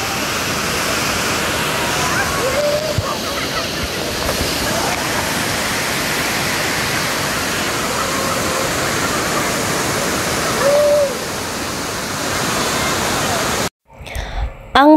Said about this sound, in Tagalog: Ang talon ng Tinago o mas kilala na Tinago Falls ay matatagpuan sa ilalim na bangin ng Barangay Ditukalan, lungsod ng Iligan.